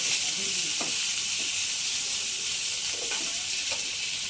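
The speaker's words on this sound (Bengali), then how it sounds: "পেঁয়াজটা লাল করে ভেজে নেব" Onions frying in oil in a home kitchen pan, a steady broadband sizzle throughout with a few faint stirring scrapes, no voices.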